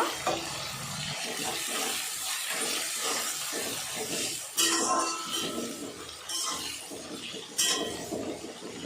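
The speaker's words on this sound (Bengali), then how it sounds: "পেঁয়াজটা লাল করে ভেজে নেব।" Onions frying in a pan until reddish, a steady sizzle with scraping and clinking of a stirring utensil and a few louder bursts, close and continuous.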